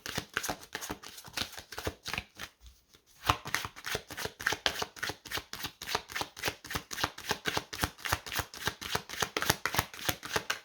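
A deck of playing cards being handled, a rapid run of crisp rhythmic riffling clicks with a brief pause before the flicking resumes, close and fairly quiet with no voices.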